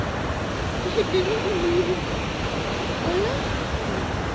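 Spahats Creek Falls, a 73 m high, 9 m wide waterfall, gives off a steady broadband roar mixed with wind, with a brief voice heard over it.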